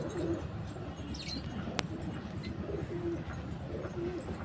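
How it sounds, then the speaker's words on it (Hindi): Soft coos from a racing pigeon over a steady outdoor hum, with a few faint chirps and a sharp click partway through. "तो ये कबूतर है,"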